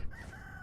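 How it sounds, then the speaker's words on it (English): A short, close bird call from a fowl in the Vintage Story game, heard alone as a brief rooster-like cry. "what animal is this? Some kind of bird."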